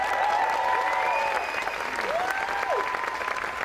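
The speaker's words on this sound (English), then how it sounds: "How about another round of applause for our Governor, Michelle Lujan Grisham?" Sustained audience applause at a political event in New Mexico honoring Governor Michelle Lujan Grisham, a steady wash of clapping with some cheering and whistles over the top, loud and continuous throughout.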